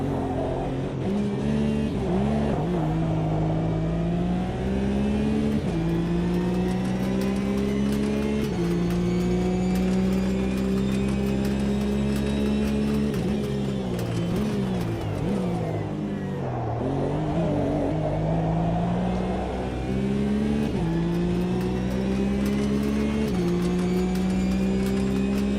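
Racing car engines in a sim racing game, a loud, steady drone with rising and falling pitch as the cars accelerate and brake, carrying continuously on its own with no talk.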